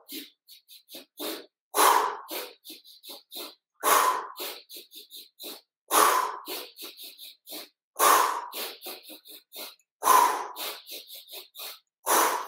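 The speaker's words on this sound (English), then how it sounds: "Now switch to staccato breathing. 5 breaths in, 1 powerful breath out." Staccato yoga pranayama breathing, five short sharp sniffs in followed by one forceful exhale, repeated in a steady rhythm up close with no talking.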